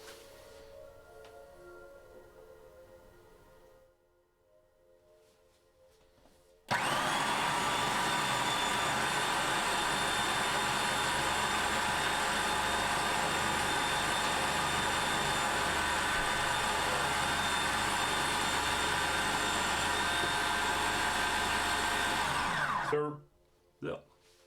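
Food processor blending hummus, starting abruptly with a loud, steady motor whir and grinding churn that holds unbroken for about sixteen seconds before cutting off, after quieter kitchen background.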